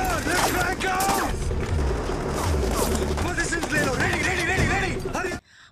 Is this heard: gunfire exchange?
yes